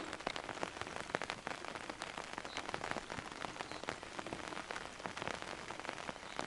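Heavy rain pours steadily at a wild lake, a dense, even hiss of drops drumming on surfaces that continues without a break.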